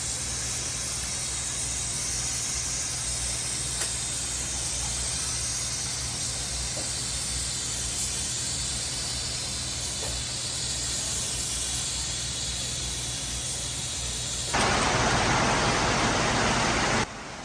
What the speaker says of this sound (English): Methodical spraying of the grey right across the hull.